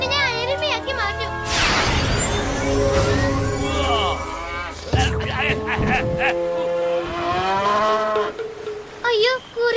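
A cartoon buffalo moos loudly over the middle of the clip, with animated voices and music around it.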